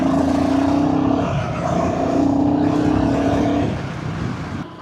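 A vehicle engine with a torn silencer roaring loud and close, a coarse droning growl with rising and falling pitch as it revs, easing off at the end.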